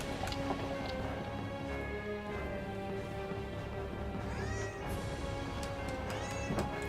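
A cat meows a couple of times in the video game Baten Kaitos, over a constant bed of droning background music.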